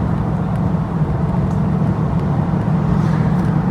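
A TVR Chimaera's engine drones steadily on the road from inside the car, a constant low rumble with no break in level.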